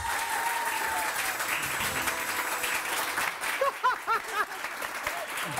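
Studio audience applause on a morning television talk show, a fairly faint, steady clapping crowd that thins later as voices and tonal sounds break through.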